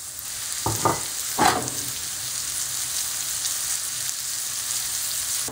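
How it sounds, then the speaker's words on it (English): Chopped mushrooms hitting hot oil in a pan, with a few sharp spatters at first, then a steady, close sizzle that carries on alone. "Add some more oil to the pan. And add the chopped mushrooms."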